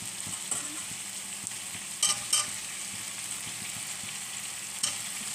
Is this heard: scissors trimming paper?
no